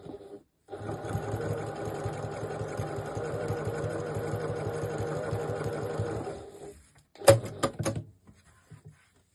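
A sewing machine runs a half-centimetre seam on bag fabric in one steady burst of rapid, even stitching for about six seconds, then stops, followed by a few sharp clicks and knocks of handling.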